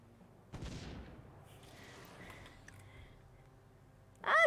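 Cannon towers firing in a tower defense video game, a dull boom followed by a rumbling tail and scattered muffled blasts, with a sharp burst at the end.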